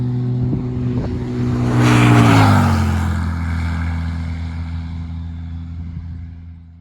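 A steady engine drone with a low harmonic hum that dips in pitch as a broad rushing swell rises and fades, a Cirrus SR22 G6 single-engine propeller plane passing close by.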